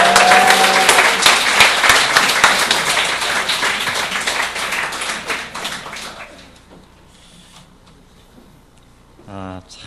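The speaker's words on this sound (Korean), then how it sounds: "우리 찬양 인도자들 박수할까요?" Church congregation applauding its worship leaders, a dense wash of clapping that holds strong for about six seconds, then thins to scattered claps and fades, with a brief voice near the end.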